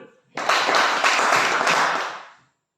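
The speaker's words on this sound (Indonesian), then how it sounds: "Baik, tepuk tangan dulu" A class audience at an automotive vocational lesson bursts into dense applause, a steady wash of many hands clapping together for about two seconds before tapering off.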